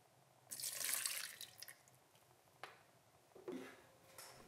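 Bubble solution being poured into a bowl for a no-glue water slime, a quiet close pour with a brief trickling splash near the start, followed by a few soft taps and drips.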